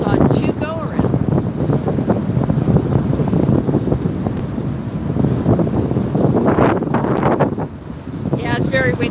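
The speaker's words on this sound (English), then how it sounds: "Yeah, it's very windy here today." Strong gusts batter a windscreened microphone at an airport plane-spotting spot at LAX, giving loud continuous low buffeting that swells and dips, with a person talking faintly at moments.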